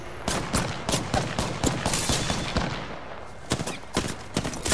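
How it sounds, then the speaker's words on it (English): Rapid gunfire in the video game Apex Legends, with dense bursts of sharp shots fired in quick succession throughout, some louder and nearer than others. "Bro, they are really shooting me."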